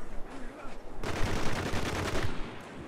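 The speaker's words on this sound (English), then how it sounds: "He was shooting at his teammate." Rapid automatic gunfire in the multiplayer shooter Spec Ops: The Line, a dense, loud burst lasting over a second, preceded by quieter game ambience and faint sporadic shots.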